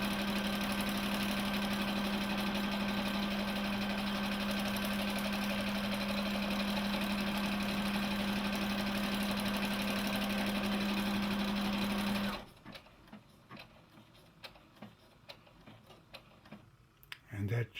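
A combo sewing and embroidery machine running an automatic lock stitch, a steady close mechanical whir with rapid ticking that stops abruptly, followed by faint handling clicks.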